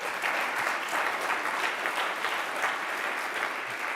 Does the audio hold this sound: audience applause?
yes